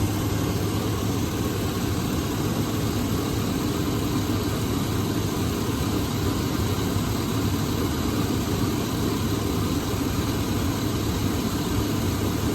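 A 5.3 engine idles steadily at a constant low rumble, close and loud, with no change in pitch or rhythm and no voices.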